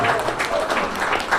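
Applause at the Malaysian film launch of the comedy Gangster Pencen, a short burst of steady clapping from a gathered audience, moderately loud, with a voice talking faintly over it.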